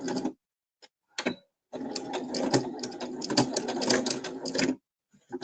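Sewing machine stitching a backstitched seam in short bursts, first a couple of brief clattering runs, then a sustained close rattling stretch of several seconds before it stops.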